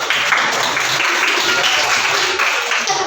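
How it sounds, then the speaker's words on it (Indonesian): Applause for a student named Juli during a classroom coaching session, a steady burst of many hands clapping together that stays loud and even throughout. "Oke, ya tepuk tangan buat Juli"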